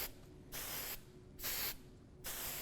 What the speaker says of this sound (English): I'm going to give it a nice soft wash of hairspray